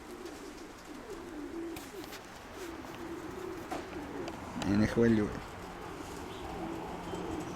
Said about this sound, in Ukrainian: Він молодець, гарний такий голубочок